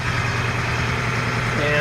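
An FMTV military truck engine runs at high idle in a steady, loud, even drone close by, holding constant for the whole short stretch.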